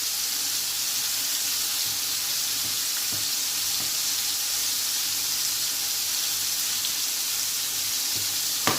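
A fish fillet fries in a pan, giving an even, close, continuous sizzling hiss throughout with a few faint clinks, no voices.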